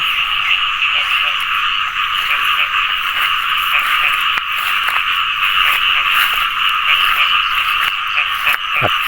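Frogs croak in a dense, continuous chorus after heavy rain at dawn in the countryside, with rapid repeating calls close and loud throughout and no talking.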